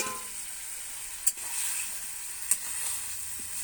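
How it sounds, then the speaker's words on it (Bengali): Cauliflower, potatoes and peas frying in a pan give a steady, close hiss of sizzling oil, broken by two brief stirring scrapes, with no voices. "ফুলকপি আলু মটরশুঁটি ভালো করে কষে নেবে"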